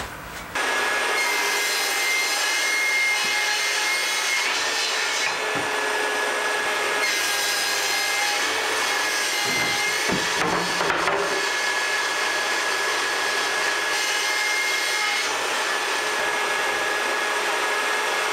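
A saw cuts through wood in a home workshop while a workshop vacuum runs alongside, a loud continuous whine and rasp with a steady tonal hum, sustained throughout without talk.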